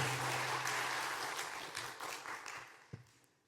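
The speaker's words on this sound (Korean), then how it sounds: "우리 큰 박수로 환영해 주시겠습니까?" A church congregation applauds to welcome an invited guest at a special Sabbath service, the dense clapping steady and loud before gradually thinning out.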